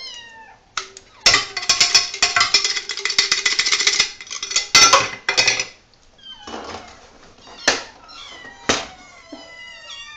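Several kittens meow over and over, high and overlapping, with clatters and knocks in between; no talking.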